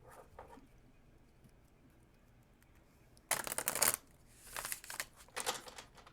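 A deck of tarot cards is shuffled in two or three quick riffling bursts that are crisp and close, after several seconds of near silence.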